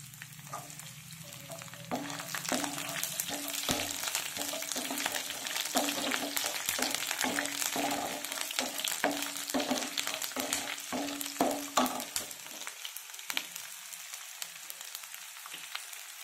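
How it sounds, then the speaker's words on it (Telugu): Dried red chillies and curry leaves frying in hot oil alongside cut garlic, a continuous close crackling sizzle with repeated stirring scrapes and clinks, fading to quieter sizzling toward the end. "ఎండుమిర్చి, కరివేపాకు. ఇప్పుడు ఇవి వేగిపోయినాయండి."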